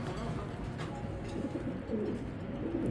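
A foreign racing pigeon coos in low, throaty repeated calls close by, over a steady background rumble.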